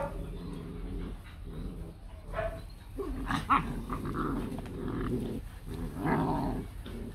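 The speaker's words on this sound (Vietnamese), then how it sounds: "Gầm gừ ghê gớm luôn" Rottweiler puppies growl and snarl close by in rough, overlapping bursts of play-fighting, with low rumbling growls rising and falling and a few higher whimpering yips in between.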